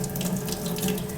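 Cool tap water runs steadily from a faucet over a plucked duck being rinsed of leftover feathers in a sink, a continuous close splashing stream with no talk.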